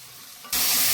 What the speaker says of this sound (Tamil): இப்போ நம்ம தக்காளியை போட்டுக்கலாம்